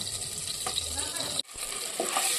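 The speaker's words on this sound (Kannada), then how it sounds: "ಮೊಟ್ಟೆನ ಫ್ರೈ ಮಾಡ್ಕೊಳ್ಳುವ" Cut eggs sizzling in hot oil in a pan as the first step of an egg gravy, a steady, close, continuous hiss and crackle that dips briefly before rising again.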